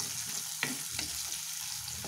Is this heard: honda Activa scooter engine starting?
no